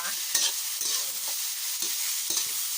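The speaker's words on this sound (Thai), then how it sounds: "ใส่เห็ดลงไปก่อนเลย เห็ดก็ไม่ตัดด้วยนะคะ" Whole, uncut mushrooms stir-fried in a pan at the start of a mixed vegetable stir-fry. A soft steady sizzle runs throughout, broken by several sharp scrapes and knocks of the spatula against the pan.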